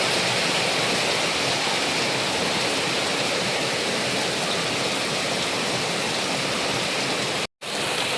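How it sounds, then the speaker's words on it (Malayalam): Rain falls in a dense, steady hiss that fills the whole stretch, loud and even, with a split-second dropout near the end. "ഇന്ന് മഴ നേരത്തെ തുടങ്ങി."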